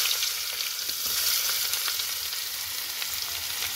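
Cinnamon, cardamom, cloves, dried chilli and chopped onion frying in oil for a Bengali dish, a continuous bright crackling sizzle up close with faint stirring, no voices.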